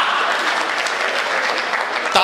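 A comedy show audience claps loudly in dense, sustained applause that fills the space, with a brief sharp knock near the end.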